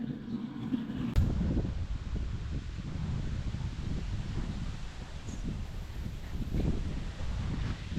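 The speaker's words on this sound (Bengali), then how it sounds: "প্রচন্ড বাতাস, একদম কালো মেঘ হয়ে আছে আকাশ।" Strong wind blows across a rooftop under dark storm clouds, giving a constant rough rushing roar with gusty swells and a sharp knock near the start. No voices are heard.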